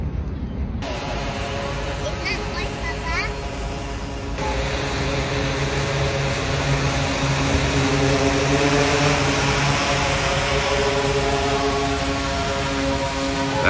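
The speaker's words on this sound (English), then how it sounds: "That's how they do the drone deliveries in China." Delivery drone flying overhead in China, a steady loud whirring propeller drone that holds for the whole stretch and grows slightly louder as it nears, with a few voices talking faintly underneath.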